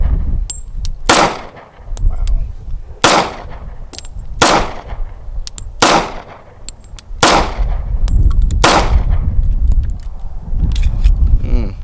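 A .45 ACP 1911 pistol fires a string of about seven sharp, loud gunshots at irregular intervals of one to two seconds. Each shot rings briefly at close range.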